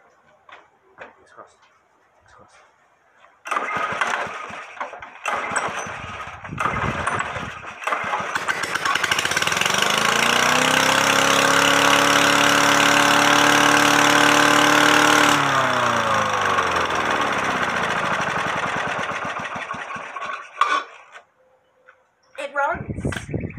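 A push lawn mower being revived after a no-spark, fuel-starved fault sputters through a few failed pulls, then catches and runs steadily for several seconds at close range before winding down and cutting out.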